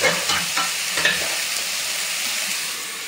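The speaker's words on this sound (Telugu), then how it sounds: "నేనైతే అన్ని కాయలు వేగనిచ్చేసి ఇంక మూత పెట్టేస్తున్నాను." Vegetables for Andhra sambar frying in a pot, a loud close sizzle with a few stirring scrapes early on, the hiss settling into a steady crackle throughout.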